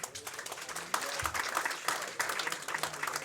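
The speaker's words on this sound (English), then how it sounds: "give both players a round of applause" Audience at a bowls tournament, the International Open, claps for both players after a match, soft, moderately dense applause heard from a distance and fairly faint, with a few louder swells.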